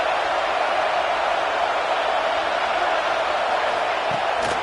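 A large stadium crowd at a college football game against Clemson roars steadily, a dense, even wash of cheering and noise carried at broadcast distance beneath the play-by-play.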